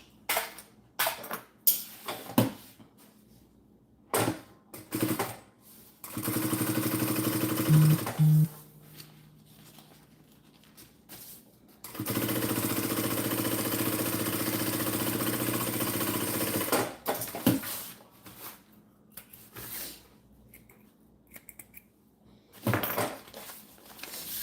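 A domestic sewing machine runs two sustained bursts of top stitching on a messenger bag lining, a steady close whirring motor hum. Short clicks, handling knocks and quiet pauses fall before, between and after the stitching.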